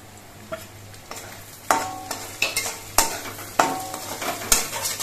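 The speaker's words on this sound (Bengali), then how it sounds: "কাঁচা লঙ্কা কুচিটা দিয়ে নেড়ে চেড়ে মিশিয়ে নিয়ে এবার আমি শাকগুলো দিয়ে দিচ্ছি।" Onion and garlic fried until reddish, then stirred with chopped green chillies in a pan while cooking jute leaf greens, giving repeated sharp scraping strokes over a soft sizzle, nearby and without speech.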